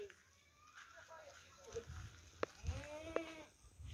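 Goats bleat a few times at moderate distance, wavering cries rising over quiet outdoor ambience with soft rustling.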